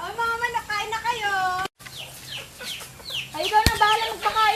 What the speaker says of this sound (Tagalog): O, mga manok, kain na kayo.